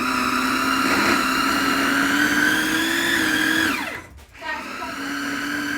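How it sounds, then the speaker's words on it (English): Blender running steadily on onions, a loud whirring motor with a rising pitch that dips and bogs down briefly near the end before settling again. "So I'm just gonna blend it."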